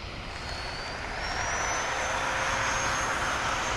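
An FMS Yak-130 RC model jet flies past, its electric ducted-fan whine a loud, steady broadband rush with a thin, slowly rising tone running through it.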